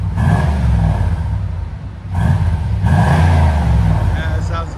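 A 1994 Chevy 1500 pickup with a 5.7L 350 V8 and aftermarket exhaust revs close by in two strong bursts separated by a short drop, a deep, loud rumble throughout.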